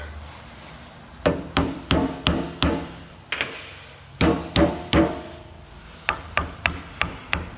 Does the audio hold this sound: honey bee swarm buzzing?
no